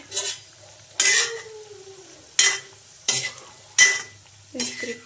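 Chunky cut potato pieces tipped into a kadai and stirred with a utensil for aloo gobhi matar sabzi, giving five loud scraping, clattering stirs spaced about a second apart over a faint sizzle, with no talking.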